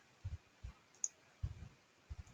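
A computer mouse clicks a few times, soft and close, with a faint steady hum underneath and no voice.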